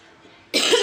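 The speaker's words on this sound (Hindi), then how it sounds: "बहुत तेज़ी में खांसी होती है और चेहरा भी इतना सूज रहा है।" A woman with chest pain and a swollen face gives a single loud, abrupt cough, close by, after a quiet moment.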